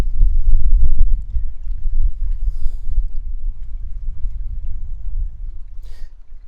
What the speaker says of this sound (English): Pause for the wind.